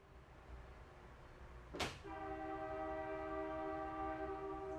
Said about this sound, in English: Passenger trains honk a lot when they go through town